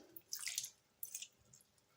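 Small splashes of water, about four teaspoons, drop into a cornflour-coated potato snack mixture in two brief, close bursts with soft drips between, fairly quiet and with no talking.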